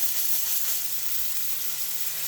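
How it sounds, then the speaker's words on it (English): Fresh fish searing in a hot pan with olive oil, a steady bright sizzle throughout, close and fairly loud, with no talking over it. "Now we're going to place our fish right in. Real nice sear."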